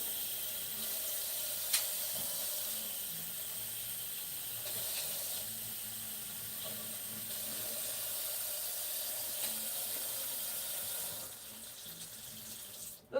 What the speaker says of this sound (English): Then I just rinse this off.